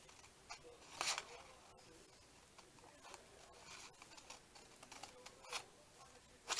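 Scissors cutting paper out of junk mail, a few quiet, scattered snips and rustles spread across a soft background, with one slightly louder cluster near the start and another at the very end.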